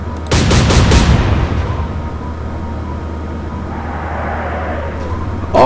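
Naval guns fire in a quick salvo of four heavy booms in Atlantic Fleet, loud and close, then fade into a long low rumbling tail over steady wind noise.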